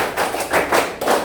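A class clapping together in the tepuk Indonesia routine: several loud, roomy bursts of group clapping in a quick, uneven rhythm, with no talking.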